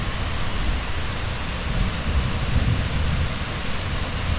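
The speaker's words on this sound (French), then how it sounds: "les mêmes flashs avec le tonnerre" Evening summer thunderstorm in late July: heavy rain pours continuously with deep rolling thunder rumbling underneath, a steady loud wash of noise with no voices.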